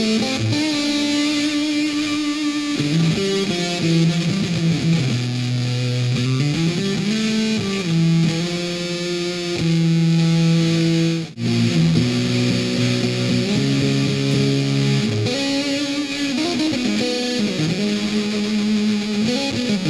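An electric guitar plays through a tiny pedal on its low bit rate setting, giving gritty, crushed tones like old video game music. Sustained notes step between pitches alone, loud and steady, with one brief dropout.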